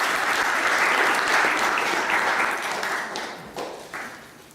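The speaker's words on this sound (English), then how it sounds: "A round of applause, please." Sustained audience applause at a talk for young people, dense and steady clapping that thins and fades toward the end, with a few louder claps breaking through as it dies down.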